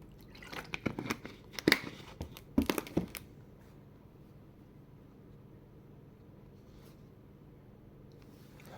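Water is poured into a box holding a Casio A159W watch, with a short burst of splashing and trickling over the first few seconds before it settles into near quiet.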